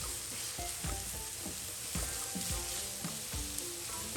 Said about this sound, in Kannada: ಈರುಳ್ಳಿ ಸ್ವಲ್ಪ ಫ್ರೈ ಆದ ನಂತರ ಇದಕ್ಕೆ ಕಟ್ ಮಾಡಿಕೊಂಡಂಥ ಕರಿಬೇವಿನ ಸೊಪ್ಪು ಹಾಗೂ ಶುಂಠಿ ಬೆಳ್ಳುಳ್ಳಿ ಪೇಸ್ಟನ್ನು ಹಾಕಿ ಚೆನ್ನಾಗಿ ಫ್ರೈ ಮಾಡ್ಕೊಳ್ಳಿ